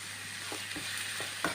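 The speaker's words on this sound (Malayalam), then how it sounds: "ഇതെല്ലാം കൂടെ നമുക്ക് നല്ലതൊന്ന് ഫ്രൈ ആക്കി എടുക്കണം" Ingredients sautéing in a pan with salt, a constant close sizzle with soft spatula scrapes recurring every half second or so, and no voices.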